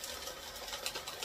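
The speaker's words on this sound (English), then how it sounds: "So there it goes, sucking it in there, shredding it up." A Royal 18MC microcut paper shredder chews through a sheet of paper, a steady whirring grind at close range with no talking.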